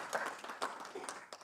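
Audience at a university professorial inauguration clapping, a brief, quiet patter of scattered hand claps heard from a distance.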